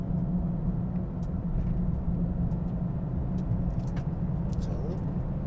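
A 2024 Bentley Continental GT on a road test pulls away smoothly from inside the cabin, a low, steady engine and road rumble with faint rattles and no sharp rise in pitch.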